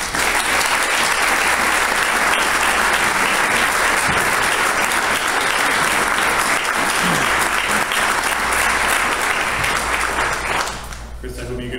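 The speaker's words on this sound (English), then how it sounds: "I hope you can hear the applause." Sustained audience applause fills a research presentation hall, dense and loud from start to nearly the end, then tapering off abruptly in the last second.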